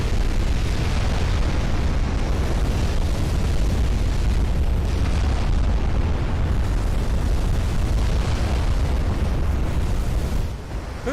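A battleship blows apart in the naval game Ultimate Admiral Dreadnoughts, a loud, sustained roaring explosion with dense rumbling low end that barely lets up across the whole stretch before easing slightly at the close.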